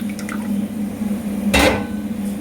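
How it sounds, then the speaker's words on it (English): Tamarind juice poured into a preheated pan for rasam gives a brief sizzling, splashing burst near the end. Before that there is a low, steady background hum with faint small clicks. "Now first we will add this tamarind juice"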